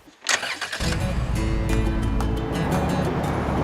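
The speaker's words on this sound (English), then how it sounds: "listen to that engine purr" A boat engine starts with a sharp burst, then settles into a steady, loud running rumble that continues without talk.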